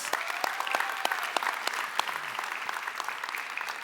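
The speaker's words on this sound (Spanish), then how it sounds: "Démosle un aplauso a las mamás." A church congregation claps for the mothers, a steady wash of close, lively applause that carries on throughout.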